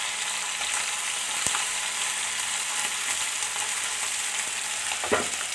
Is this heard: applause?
no